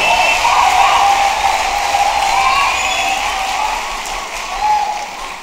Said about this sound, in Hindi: एक बार जोरदार तालियां उठा दे हवा में।